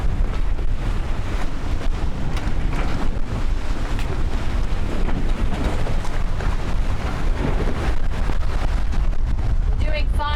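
Wind rushes steadily over a sailboat at sea under sail with engines off, around 13 knots of breeze, a loud continuous buffeting roar against the microphone with water wash beneath.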